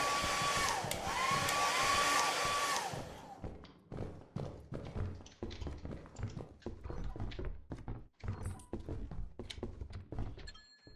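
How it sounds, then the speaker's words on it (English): A hair dryer item in Lethal Company blows a steady broadband whoosh for a few seconds, then cuts off, followed by a run of thumps and footstep-like knocks with faint talk in the background. "hair dryer"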